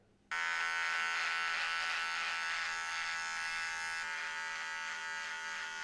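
An electric razor buzzes steadily up close while shaving in a beard neckline, switching on sharply and holding a constant loud hum with a slight change in pitch partway through.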